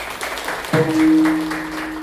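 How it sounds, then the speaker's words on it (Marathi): A crowd at a kirtan gathering claps rhythmically, fairly faint, under a sustained droning tone that swells in partway through. "अशा व्यक्तिमत्वासाठी पण जोरदार टाळ्या हव्या"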